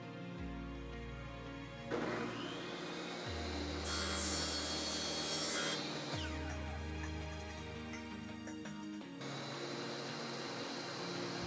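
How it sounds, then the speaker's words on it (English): A chop saw cutting connecting PVC pipe in a shed: the motor spins up with a rising whine, bites through the pipe with a harsh buzzing rasp, then winds down, twice over, loud and close with no talk. "I'm going to head out to the shed and cut all the connecting PVC on the chop saw"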